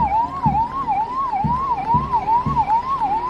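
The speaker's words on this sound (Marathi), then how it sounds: "कुडाळ नगरपंचायत अग्निशमन दल वाहन" Kudal Nagar Panchayat fire brigade vehicle sounds a loud, close wailing siren that rises and falls in a steady cycle during a Republic Day parade, with a low engine rumble beneath.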